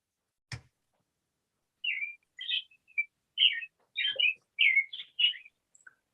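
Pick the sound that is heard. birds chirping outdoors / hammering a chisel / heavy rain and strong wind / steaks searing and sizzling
birds chirping outdoors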